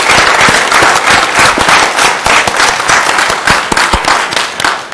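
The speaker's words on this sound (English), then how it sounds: "So I think let's give Ms. Bennett a round of applause." Sustained applause from the audience at a city school board meeting, dense and fairly loud with sharp individual claps crackling throughout and no talk over it.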